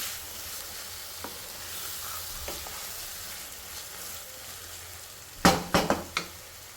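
Grated raw mango with curry leaves and dried red chillies frying in a pan, a steady close sizzle joined near the end by a few sharp clanks of a spoon stirring against the pan.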